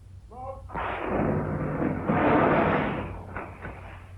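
Torpedo launch effect from a WWII destroyer versus U-boat radio drama: a brief mechanical click, then a loud rushing whoosh that swells and holds for about three seconds before trailing off.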